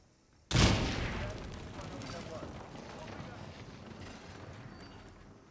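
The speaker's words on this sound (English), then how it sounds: "I thought the explosion would be a little bit bigger." A sudden sharp blast in the video game Hitman, followed by a long rumbling, crackling decay that slowly fades, heard on its own without talk.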